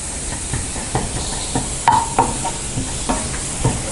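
Paneer cubes fry in a kadai with a soft, steady hiss of oil, broken by a few light stirring clinks and scrapes.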